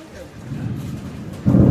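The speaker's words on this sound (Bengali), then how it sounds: "অলরেডি বৃষ্টি আরম্ভ হয়ে গেছে।" Rain begins with a low rumble of thunder that builds gradually, then swells abruptly into a loud, close roar at the end.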